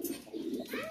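Sirazi pigeons in a room coo softly in low throaty bursts, close by, with a faint voice in the background.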